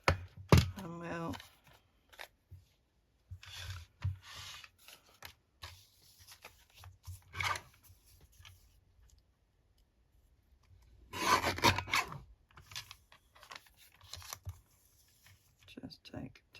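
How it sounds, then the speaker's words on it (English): A small paper trimmer slices the edges of freezer-paper-backed napkin paper, giving soft rasping, sliding strokes close by and faint, with the longest scrape near the end and quiet handling noises in between. "So I'm just going to bring my little trimmer in"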